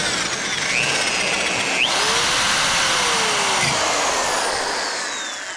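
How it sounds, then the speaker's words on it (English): A power drill bores steadily through a hole while fitting a Brembo big brake kit with 14-inch rotors to a Z31 300ZX, a loud continuous whine near the mic with slight pitch shifts as load changes. "got it drilled through successfully"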